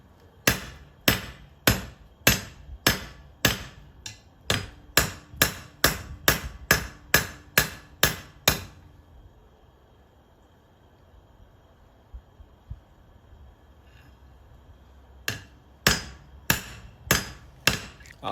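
Steel hammer blows ring out on hot 5/8-inch stock against an anvil while forging a pair of tongs, a steady rhythmic run of sharp, loud strikes that pauses into quiet, then resumes with several more blows.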